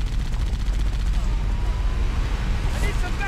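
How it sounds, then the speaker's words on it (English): Heavy gunfire from a battle in Halo: Combat Evolved, a dense, continuous roar of overlapping shots and blasts that stays loud and steady throughout with no pauses. "Taking heavy fire!"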